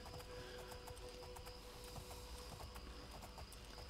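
Hooves of a horse in the video game Oblivion clop in a quick steady rhythm, faint and mixed with dense ambient game noise and a high steady tone throughout.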